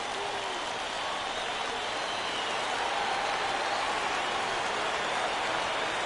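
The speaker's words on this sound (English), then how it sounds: "Crowd gets up for the 3-2." Crowd noise at a minor-league baseball stadium in MLB The Show 16, a Salt Lake Bees vs. Reno Aces Triple-A game, rising as fans get up for a 3-2 count; a steady, broad roar holds throughout without letup.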